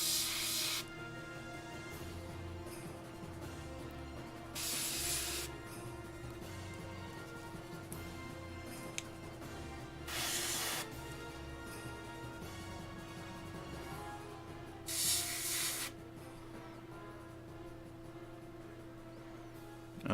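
An airbrush sprays paint onto a Reaper miniature in short hissing bursts, four separate sprays spaced several seconds apart, faint under steady background music.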